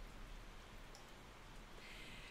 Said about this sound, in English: conditions are worsening here at St Mary's tonight, with the rain settling in for the night